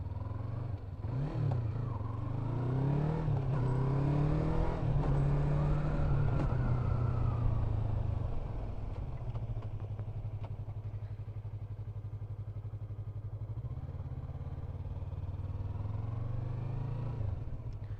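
A Yamaha MT-03 motorcycle engine chugs in second gear at about 10 km/h with a steady rumble, briefly rising then settling into an even, slow idle-like drone nearby.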